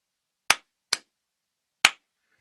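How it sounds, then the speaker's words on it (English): Three sharp, isolated hand claps, close and clean, the first two quick together and the third after a pause, with silence between. "And if I clap like this"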